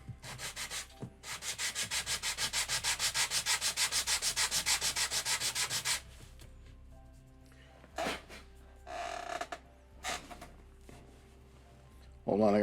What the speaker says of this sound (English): Need to sand this down a bit.